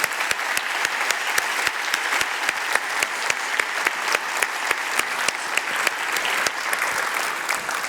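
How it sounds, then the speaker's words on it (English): Sustained applause from a large audience at a library world congress keynote, cheering student competition participants; dense steady clapping with sharp individual claps standing out, continuous for the full span. "Okay, huge applaud."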